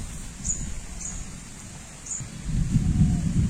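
Steady rain falling outdoors during stormy weather, with low rumbling thunder that swells louder toward the end and a few faint high bird chirps above the wash.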